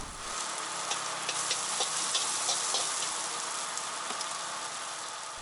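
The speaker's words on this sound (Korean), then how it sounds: "기름을 데우고 그리고 또 숙주나물 부터해가지고 여러 가지 채소, 야채를 넣고 또 볶아내고" Pad thai with bean sprouts and mixed vegetables frying in oil in a large wok produces a steady, loud, hissing sizzle with faint stirring ticks and no speech.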